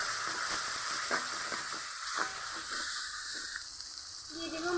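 Pieces of aair fish fry in a pan with salt and turmeric, a soft, steady sizzle broken by a few light taps and stirs at irregular intervals.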